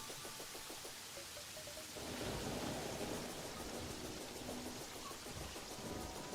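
Steady rain falls on a rainy night in the video game Terraria, a continuous dense patter that swells into a louder rushing downpour with a low thunder-like rumble underneath.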